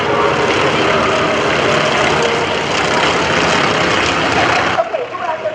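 A Trojan Horsemen aerobatic team airplane roars loud and steady at close range at the AirPower Over Hampton Roads air show with power pushed up, the engine drone fading slightly near the end.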